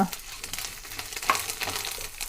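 Garlic and spices sizzle and crackle in a hot pan while cooking a basale saaru, a steady close frying hiss with a few stirring scrapes, fairly faint and uninterrupted by talk.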